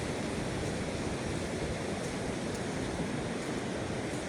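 Ocean surf at Long Beach, heard while jogging along the shore: a steady, broad wash of breaking waves and wind, continuous and fairly loud, with no voices over it.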